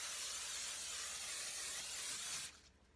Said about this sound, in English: Just gonna lightly spray this basket with some olive oil spray,